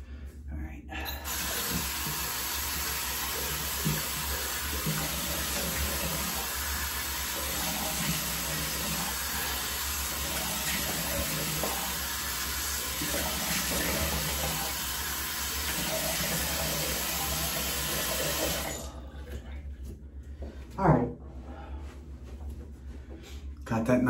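A bathroom tap runs in a steady, close rushing stream while someone splashes water on their face before shaving. The flow holds for most of the clip, then cuts off, leaving a few quiet splashes and small handling sounds.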